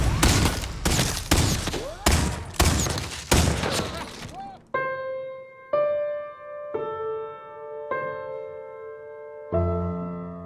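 Film-scene gunfire: a rapid series of loud, sharp shots in quick succession, followed by a steady sequence of sustained tonal notes as the shooting stops.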